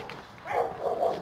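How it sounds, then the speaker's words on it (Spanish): Dogs bark faintly in the distance, a few short muffled yelps in quick succession over outdoor city ambience in Bilbao near stairs leading down toward San Mamés. "Mira los perros cómo ladran."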